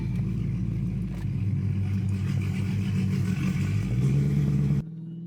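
A Dodge Hellcat engine cold-starts and settles into a loud, steady idle with a deep rumble, then cuts off abruptly near the end.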